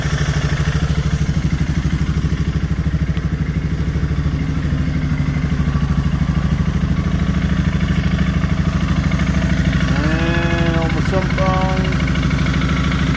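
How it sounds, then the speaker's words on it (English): A Suzuki KingQuad ATV engine runs steadily while warming up, a constant low mechanical drone that continues throughout, with a brief whine near the end. "whilst the engine's warming up, let's have a little wander around the bike"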